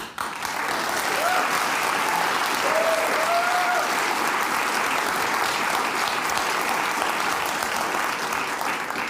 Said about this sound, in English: That line will get you an applause break from all sides.